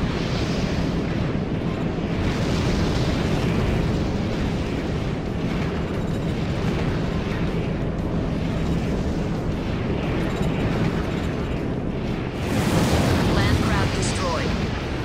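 Continuous roaring explosions and rumbling blasts as a landcraft is destroyed in the mecha game Armored Core 4 Answer, loud and dense throughout with a fresh burst near the end.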